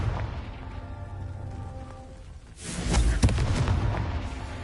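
A Confringo spell blasts in a Harry Potter video game: a steady hum of game ambience breaks into a sudden loud, broadband explosion midway, followed by a rumbling, crackling tail.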